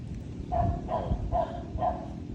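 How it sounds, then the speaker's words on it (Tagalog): A dog barks four times in an even series, each bark short and moderately loud, heard at middle distance over faint background noise. "natahol lang aso"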